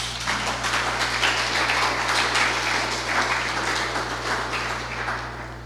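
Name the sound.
congregation applauding in church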